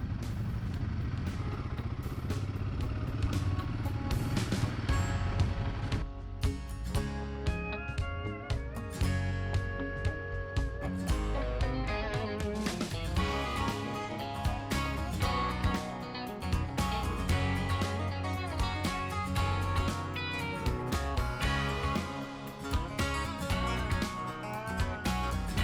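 A Royal Enfield Himalayan 450 motorcycle rides on a road, its engine droning steadily and loudly throughout with shifting revs and wind or road noise mixed in.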